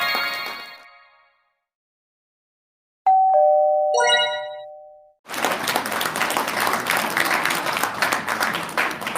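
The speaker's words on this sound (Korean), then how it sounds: "김민배 대표님 박수로 맞이해주시기 바랍니다." A forum audience at a TV Chosun CEO's special lecture bursts into sustained, loud applause to welcome the speaker. It follows a doorbell-like chime and is a dense, steady wash of clapping.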